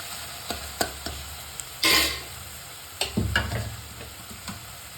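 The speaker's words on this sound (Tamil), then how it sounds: "நம்ம அரிசி போடலாங்க" Two tumblers of soaked, washed rice tipped into a frying pan with cooked tomatoes for a Coimbatore-style rice and dal dish: a short close rush of grains landing, followed by sizzling and stirring clatter.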